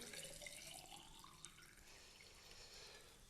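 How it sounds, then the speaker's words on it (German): Water is poured into a fermentation vessel in a steady, faint, splashing trickle that runs continuously without talking. "Ich gebe dann eben dieses Wasser dazu."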